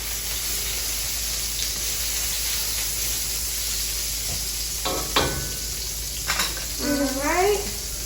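Vegetables sizzle in hot oil in a pan during a stir fry, making a steady hiss with a few utensil knocks and a brief voice toward the end.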